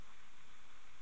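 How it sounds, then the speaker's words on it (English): Rain falling on a conservatory roof, heard from inside as a steady, even hiss of countless drops with no distinct pattern, fairly quiet and uninterrupted, with no voices. "I'm out in the conservatory and it's raining on the roof."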